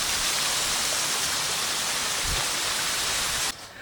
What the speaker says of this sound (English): It is hailing like crazy.